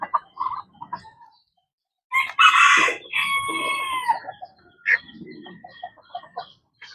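Bantam chickens clucking while pecking at garlic, close and loud in short bursts with a longer strained call in the middle and scattered soft clucks around it.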